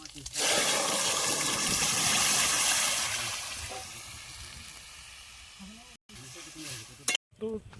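Leafy greens fry in hot mustard oil with dried chillies over a village cooking fire, a loud steady sizzle that slowly eases, broken by a couple of brief gaps.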